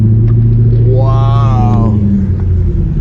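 Straight-piped supercharged 2006 Ford GT engine in a tunnel, a loud continuous low rumble with a rising rev in the middle, heard from close by with a voice briefly exclaiming over it.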